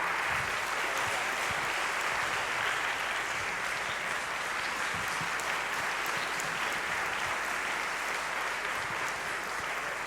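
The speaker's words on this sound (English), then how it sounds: "Let's give them another round of applause." An audience at a science awards ceremony applauds a folk song and dance ensemble, producing a strong, even roar of clapping that continues unbroken for about ten seconds.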